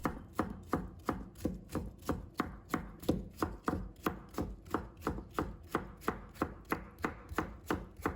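A knife chops steadily through cucumber on a cutting board, cutting it into thin shreds: close, crisp, evenly spaced strokes, about two per second, with no voices.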